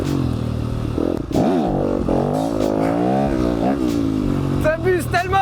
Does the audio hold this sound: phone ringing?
no